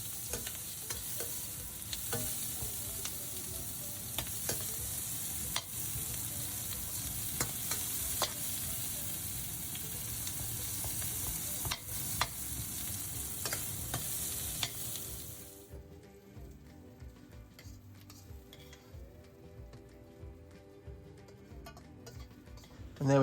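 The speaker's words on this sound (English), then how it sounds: "Just cook the onions, give them a good sear." Vegetable onions sear in a hot pan with a loud, continuous sizzle and repeated stirring scrapes close by. The frying drops away sharply near the end, leaving quieter kitchen clatter and no talk.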